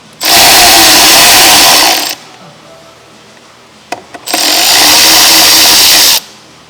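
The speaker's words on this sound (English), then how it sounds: "And then grab an electric ratchet." An electric ratchet loosens battery hardware on a 2018 Ford Fiesta in two loud, close whirring bursts of about two seconds each, separated by a quiet gap with a few small clicks.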